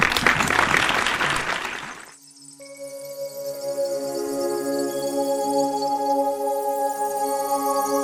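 An audience at a 75-year community celebration applauds an honoree with a dense burst of clapping for about two seconds, which fades into sustained, steady music.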